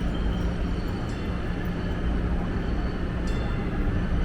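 A Boston MBTA Green Line D train bound for Riverside pulls into an underground subway station, giving a loud, continuous low rumble with steady roar and faint high squeals, no talk.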